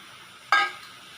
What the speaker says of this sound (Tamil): இப்போ வந்து நம்ம பீட்ரூட் போட்டுக்கிறோங்க.